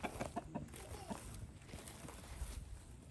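Local chickens cluck faintly in the distance, scattered soft calls over a quiet, noisy outdoor background, with possible footsteps.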